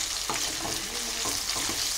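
Eggplant pieces fry in oil in a pan with a soft, steady sizzle, broken by a few brief stirring scrapes.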